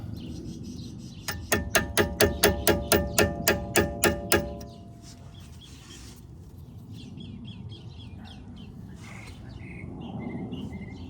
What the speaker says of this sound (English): I'm gonna have to hammer slowly, just like this